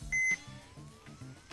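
A Yaesu handheld ham radio gives a short, clear electronic beep, faint and close, followed by quiet low static and soft tones, with no talking.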